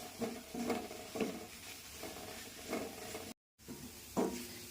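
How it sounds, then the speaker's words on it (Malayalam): Chili powder and masala powder are stirred into a cooking pan for a clam roast, making quiet, rhythmic scraping strokes over a soft sizzle, with a brief gap of silence near the end. "ആ മുളക് പൊടിയും മസാലപ്പൊടിയും ഇടാം നന്നായി ഇളക്കാം"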